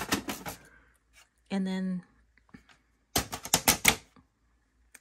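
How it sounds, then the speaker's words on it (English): The plastic paper tray of a Canon Pixma wide-format inkjet printer slides out with bursts of sharp clattering clicks, and a person speaks briefly in between. "So this is the paper tray and it will come all the way out."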